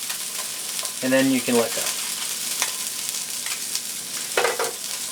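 Skin-on fish sears in a hot pan while a metal spatula presses it down, producing a loud, continuous close sizzle, with someone talking briefly over it.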